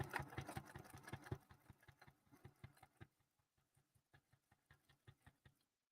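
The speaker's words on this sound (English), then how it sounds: "now I'm stitching the hanging triangle" A sewing machine stitches a hanging triangle onto quilt binding, running in fast regular bursts of needle strokes. Pauses come between short runs, and the stitching grows sparser and quieter toward the end.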